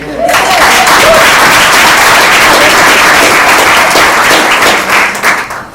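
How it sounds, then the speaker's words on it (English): An audience at a panel on women developers revitalizing neighborhoods bursts into loud, sustained applause, dense clapping that holds steady for several seconds before tapering at the end. "Give her a round of applause."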